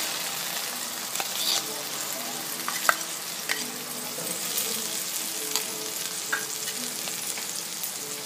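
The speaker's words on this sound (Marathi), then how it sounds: "तीही परतवून घ्यायची तेलावर 1-2 मिनिटांसाठी" Onion, ginger, garlic and coconut paste sautés quietly in hot oil, a soft continuous sizzle broken by occasional light clinks and scrapes of a stirring spoon against the pan.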